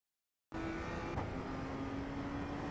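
A BMW M2 CS race car in iRacing at Oulton Park holds a steady engine drone after a half-second of silence, back on the throttle through a corner with a faint tonal whine and a brief bump midway.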